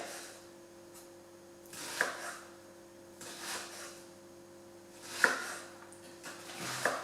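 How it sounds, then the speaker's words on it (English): A few sparse knife taps as an onion is chopped on a cutting board, quiet and unhurried, with gaps of a second or more between the soft thuds. "Now he's chopping his onion much neater than I did"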